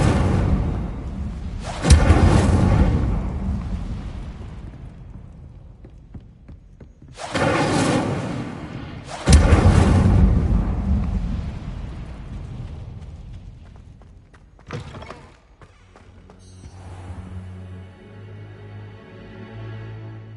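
Fire spell blasts in Hogwarts Legacy: three loud whooshing explosive bursts that each decay slowly, with a smaller crackle later and a low ambient hum underneath.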